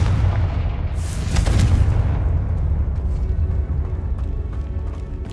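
Confringo blast spell fired in Hogwarts Legacy, a loud booming burst with a sharp crackling flare about a second in, then a long rumbling decay that fades gradually.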